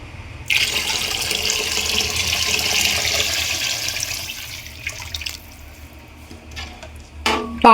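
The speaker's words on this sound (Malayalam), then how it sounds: "ഇനി ഇതിലേക്ക് അരി വേവാനായിട്ടുള്ള വെള്ളം ഒഴിച്ചു കൊടുക്കുകയാണ്." Water pours steadily from a tap into a cooking pot for boiling rice, a loud continuous splashing rush that thins after a few seconds, ending with a few clinks and a brief louder burst.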